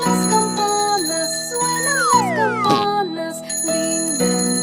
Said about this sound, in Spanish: Suenan las campanas,